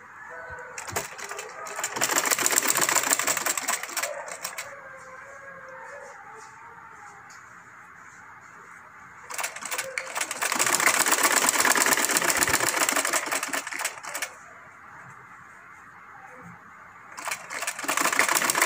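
Sewing machine stitching the shoulder seams of a garment, running in two loud, steady bursts of several seconds each with quieter pauses between and a third run starting at the end.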